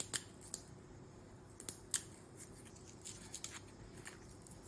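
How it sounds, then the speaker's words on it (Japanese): Scissors snip through the thin plastic lid of a natto container, cutting it into a round button shape around a plastic bottle cap: a series of quiet, irregular crisp clicks and snips, close up, with no talking. "ボタンは蓋をまん丸に切りたいから、ペットボトルのキャップに貼り付けて切ったよ。"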